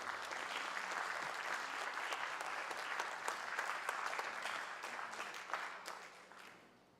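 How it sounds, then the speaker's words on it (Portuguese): Steady audience applause fills a hall at a ceremonial legislative session honoring labor lawyers, dense and sustained for several seconds before tapering off at the end. "Vamos dar uma salva de palmas ao nosso presidente."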